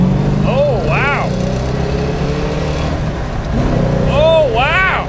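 A 1971 Plymouth Road Runner accelerating hard in second gear from a stop sign, a loud close engine rising in pitch through two strong revving pulls, with people talking over it.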